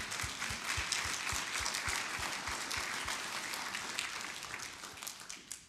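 An audience claps at a memorial service, producing a sustained wash of applause with a few louder, rhythmic claps nearby, tapering off gradually over several seconds.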